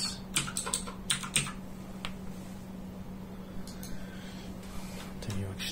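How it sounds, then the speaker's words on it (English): Rapid clicking on a computer keyboard while setting up a DIY Synology NAS running Baremetal DSM 6.2.2: dense bursts of keystrokes up front, then sparser taps over a steady low electrical hum, close and moderately quiet. "Type in"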